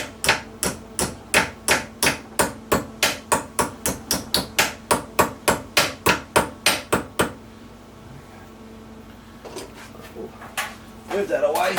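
A hammer taps a lower radiator support from a 1965 Ford Falcon, clamped in a vise during restoration: about twenty sharp, evenly spaced metallic strikes, close and loud, then quieter shop ambience.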